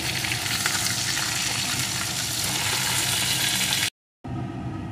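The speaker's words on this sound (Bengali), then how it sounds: "তুলে নিয়ে বাকি মাছগুলোকে এই একইভাবে ভেজে নেব" Pomfret pieces fry lightly in oil, producing a steady, close hissing sizzle with fine crackles. The sound breaks off for a moment and then returns more quietly, with no talking.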